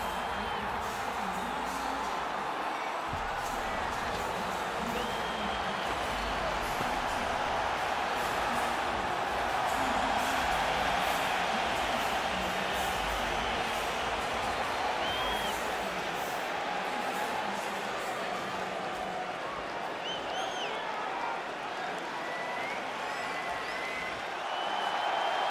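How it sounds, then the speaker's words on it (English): Arena crowd in the UFC 3 video game roaring and applauding as a fighter walks out, a dense sustained wash of cheering that keeps going for the whole stretch. "what a pop from the crowd as this guy makes the walk"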